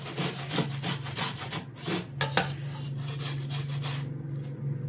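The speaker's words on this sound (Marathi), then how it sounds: "आता मी या सगळ्या फोडी अशाच किसून घेणार आहे" Watermelon pieces rubbed against a hand grater in quick, scraping strokes, a close, continuous rasping that keeps a steady rhythm before easing near the end.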